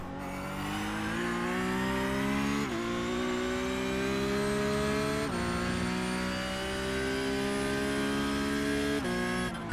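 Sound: racing car in simulator video game on track

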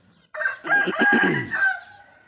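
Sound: chickens and crows calling

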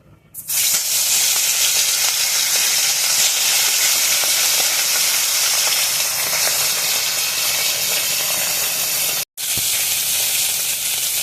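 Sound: fish coated with salt and turmeric frying in hot oil

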